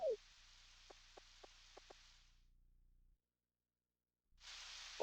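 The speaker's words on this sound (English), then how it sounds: "Well, it's raining." Rain in the Nintendo 64 game Harvest Moon 64 plays as a steady, airy hiss with a few soft drip clicks. It cuts out to silence, then the hiss returns.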